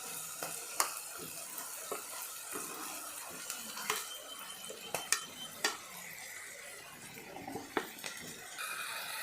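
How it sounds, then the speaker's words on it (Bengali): Small shrimp frying and being stirred in a pan with young jackfruit cooking nearby, a steady close sizzle broken by sharp spoon scrapes and clinks against the pan throughout. "মাছগুলো দিয়ে ভালো করে আরেকটু ভেজে নিব।"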